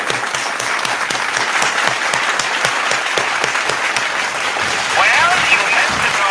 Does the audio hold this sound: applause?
yes